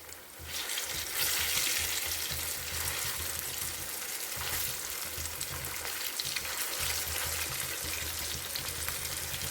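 Arbi leaf pakodas fry in hot oil, a continuous bubbling sizzle that swells as pieces are turned over, close and steady with faint stirring, with no one speaking.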